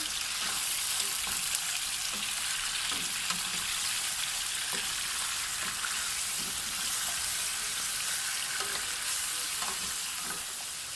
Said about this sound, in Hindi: चिकन को हम उतनी देर तक फ्राई करेंगे जब तक इसकी रंगत चेंज ना हो जाए।